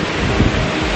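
Strong morning wind roars steadily against the microphone at a wild camp, a loud, broad rushing noise with no voices.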